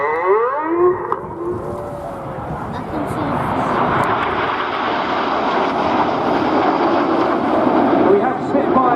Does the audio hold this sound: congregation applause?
no